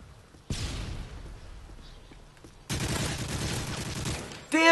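Gunfire in the Call of Duty MW3 video game: two sharp bursts of shots, each starting abruptly and followed by sustained crackling, and a final loud shot near the end, with no talk.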